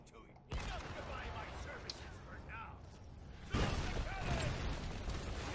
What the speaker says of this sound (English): Those cannons are so cool, completely crushing the well.